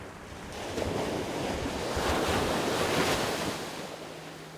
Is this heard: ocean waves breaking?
yes